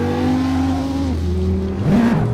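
A 2026 Honda Prelude's engine revs on a California highway, a sustained close drone whose pitch holds, drops at a shift, then climbs again as it accelerates under paddle shifts.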